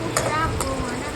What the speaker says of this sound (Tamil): கடுகு, சோம்பு, பூண்டு, வெங்காயம் நம்ம கூட தாளிக்க போகிறோம்.